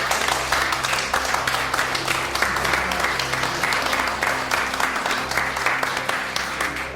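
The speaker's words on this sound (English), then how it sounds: "give Lance a nice big round of applause" An audience claps steadily for a speaker at a Vermont manufacturing event, a dense sustained round of applause filling the room at even loudness throughout.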